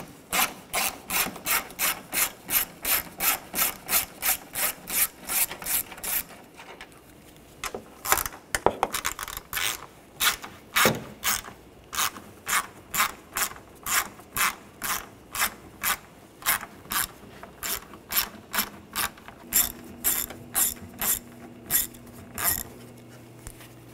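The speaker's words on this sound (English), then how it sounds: "Now I'll take these screws off, use a 8 millimeter socket." Ratchet with an 8 mm socket loosening screws on a 2013-2019 Ford Escape: long runs of rapid, evenly spaced clicking, pausing briefly midway for a few clunks, then resuming, fairly close and alone.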